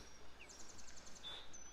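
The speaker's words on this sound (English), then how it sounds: "And believe it or not, you hear those birds?" Small birds chirp faintly outdoors at a deck building site, a quick string of thin, high repeated tweets over quiet background hiss, with no one speaking.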